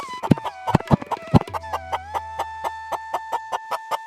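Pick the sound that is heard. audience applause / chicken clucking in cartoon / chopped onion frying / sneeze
chicken clucking in cartoon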